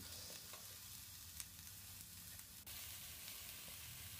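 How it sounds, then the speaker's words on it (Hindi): Potato and eggplant sizzle in a pan over low heat while being stirred, a faint continuous frying hiss with small scraping stir sounds and no talk. "धीमी आंच पे आप देखिए हम चलाते हुए अच्छी तरह से फ्राई कर रहे हैं इसको"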